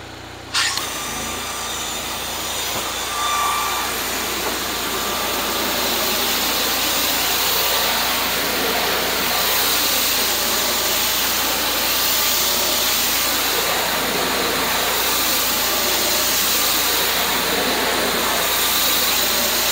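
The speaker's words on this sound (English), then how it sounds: "So let's fire the machine back up and then I'll show you the cleaning aspect of it." A wood deck cleaning machine's engine starts up and runs loud and steady for about twenty seconds, a constant high whining drone with no talking over it.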